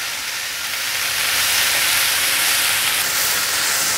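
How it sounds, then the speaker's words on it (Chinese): Tomato and cabbage stir-fry in a hot pan with a steady, bright sizzle and hiss that holds evenly throughout, with no voices. "把番茄炒软，大约略炒一下，放入高丽菜"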